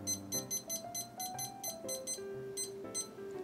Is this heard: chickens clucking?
no